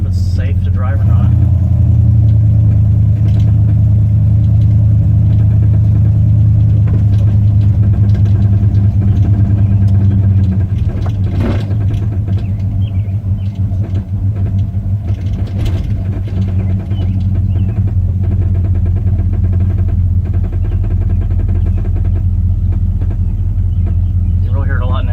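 A 1968 Cadillac hearse engine runs with a loud, steady low rumble and a faint clicking in it. A voice is heard over the engine partway through.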